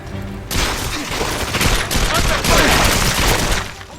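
Gunfire crackles in a video game firefight with a P99 pistol at a St. Petersburg station, rapid overlapping shots forming a dense loud burst that runs nearly the whole time, with a voice talking underneath.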